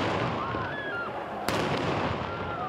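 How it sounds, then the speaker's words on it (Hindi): Firecrackers go off at a protest march in Bolivia, with a sharp bang cutting through a dense crowd roar and scattered pops and whistles at a moderate distance. "खूब शोरगुल हुआ और पटाखे भी फोड़े गए।"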